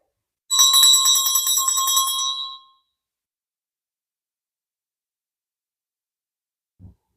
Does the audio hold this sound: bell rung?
yes